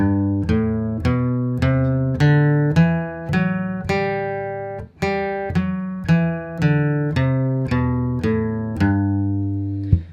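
Plucked open guitar chords strummed one after another in a steady rhythm, walking between chords, each ringing briefly before the next, clear and close with no voices.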